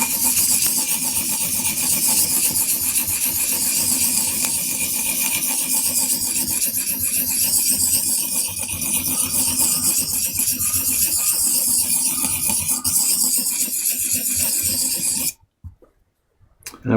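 A carving tool is sharpened on a 1000-grit Japanese whetstone, giving a steady, close, gritty scraping that runs unbroken for about fifteen seconds and then stops abruptly, followed by a few faint knocks.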